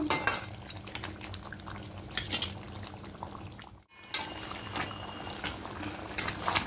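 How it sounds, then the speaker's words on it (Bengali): Chicken pieces sauté uncovered in a pot in their own released juices, giving a steady bubbling sizzle with occasional scrapes and clinks of a spoon against metal, close by and alone, with a brief dip near the middle. "এবার আর ঢাকা দেবো না, এই অবস্থায় একটু মাংসটাকে কষিয়ে নেব"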